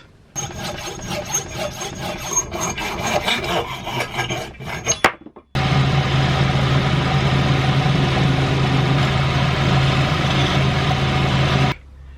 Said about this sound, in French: je vais usiner ce bloc de laiton pour faire donc la roue qui va servir à tordre la bande de fret